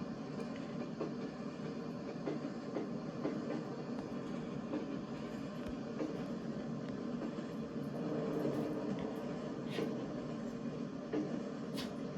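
A Class 101 diesel train in the game Train Sim World 2020 rolls steadily along the rails with a continuous rumbling drone and occasional faint clicks, unbroken and moderately loud throughout.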